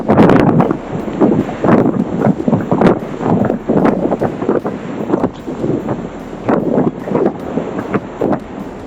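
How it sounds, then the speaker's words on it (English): Strong gusts of wind buffet the microphone over crashing surf where a surfer rides the waves, a loud, continuous roar swelling and easing in repeated blasts throughout. "Battling fierce gusts, a surfer struggles to keep balance on the waves"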